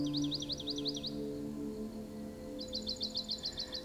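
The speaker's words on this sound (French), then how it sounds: "Écoutez les oiseaux chanter." Small songbirds sing in two bursts of quick, repeated high trills, the first fading after a second and the second returning brighter, over a steady soft background drone.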